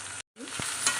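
Onions frying in a pan for a mango curry, a steady sizzle with stirring scrapes, broken by a short silent gap near the start.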